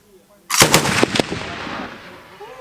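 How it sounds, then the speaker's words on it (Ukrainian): A single sharp military gunshot cracks loudly during a firing drill, followed by a short burst of echoing reports that fade into a lingering outdoor reverberation. "Постріл!"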